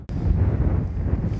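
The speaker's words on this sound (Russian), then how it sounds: "Пойдемте прогуляемся, да не сдует нас этот ветер" Strong wind at the seaside in Anapa during a storm, buffeting the microphone with a heavy low roar that begins with a sharp thump and rumbles steadily throughout, no voices.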